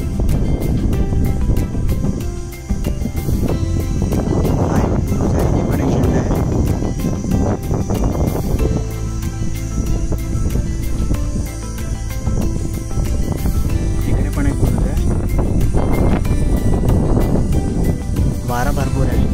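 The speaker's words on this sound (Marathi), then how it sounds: "वारा भरपूर आहे." Strong wind on the Rangana hilltop fort roars steadily against the microphone for the whole stretch, loud and gusty, with someone talking over it.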